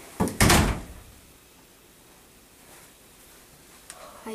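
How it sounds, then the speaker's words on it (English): A door swings open on its own with a short bump and creak near the start, followed by quiet room tone and a faint click near the end. "Something pushed open that door automatically."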